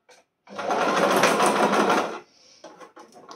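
A sewing machine runs a backstitch on fine, delicate fabric, a loud steady mechanical whir lasting about two seconds, then stopping and leaving only faint clicks and handling noise.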